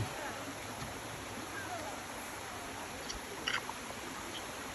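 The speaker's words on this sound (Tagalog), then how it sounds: "Parang sapa ba?" Steady broadband rushing of a shallow stream near Hamilton waterfalls, continuous and moderately near, with a few faint clicks and splashes partway through.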